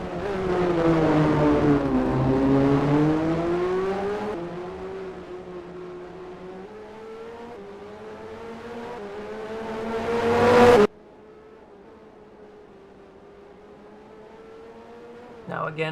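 Race cars in a racing video game at the Imola circuit, engines whining loudly as they rev up and shift through gears close by, then a sharp cut to a quieter, more distant engine drone, with no speech.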